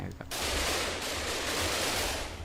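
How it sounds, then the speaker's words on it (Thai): Guns fire at zombies on a modded Minecraft 1.7.10 server, a sudden dense burst of rapid shots that blurs into a continuous loud rattle for about two seconds. "ก็ยิงซอมบี้อย่างเงี้ยครับ ยิงไป"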